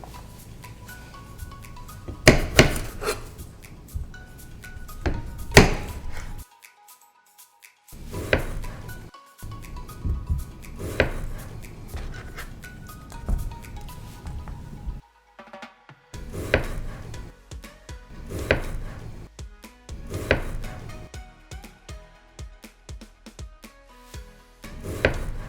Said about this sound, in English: The first thing we're going to do is roughly chop our tomatoes.